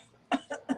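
Three short, sharp coughs close by, evenly spaced after a brief quiet moment, with no talking.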